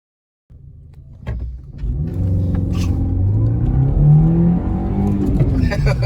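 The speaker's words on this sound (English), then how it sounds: "In this video, we accelerate from about 0 miles per hour to about 30 miles per hour" A car pulls away from a standstill and accelerates to about 30 mph. The engine starts abruptly, then its note climbs steadily, loud and close throughout.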